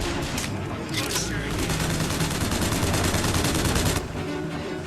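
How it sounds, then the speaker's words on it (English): Machine gun fire from the video game Bioshock Infinite: a loud, continuous automatic burst of rapid, evenly spaced shots lasting about four seconds, then a brief easing near the end. "I'll stick to the machine gun."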